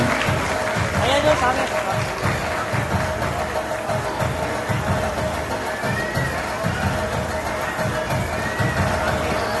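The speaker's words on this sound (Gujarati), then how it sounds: "જોરદાર તાળીઓથી આપણે વધાવીએ." An audience at a school award ceremony claps steadily and continuously throughout, a dense rolling patter from a crowd, with a voice faintly audible over the applause.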